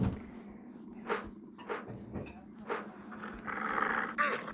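A dog growls and snarls in a horror video game, several rough bursts over a low steady game hum, with brief knocks between them.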